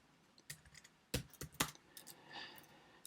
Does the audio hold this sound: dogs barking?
no